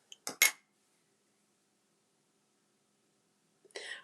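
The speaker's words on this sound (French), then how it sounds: "il me reste à couper les rubans" Scissors snipping through ribbons, a few quick sharp cuts at the start and another burst near the end, separated by silence.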